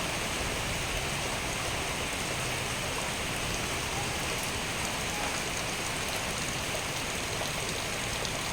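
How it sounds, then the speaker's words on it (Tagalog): Heavy typhoon rain from Typhoon Enteng in the Philippines pours steadily, a dense, continuous hiss of water with no pauses and no voices. "malakas na naman ang ulan"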